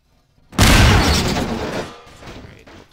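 A ballistic missile fires and detonates in Garry's Mod with Wiremod, a sudden loud blast that swells into a long rumbling roar, then fades over a couple of seconds.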